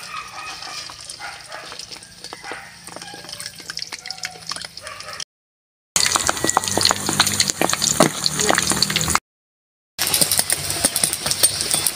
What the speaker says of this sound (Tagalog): ipiprito na natin.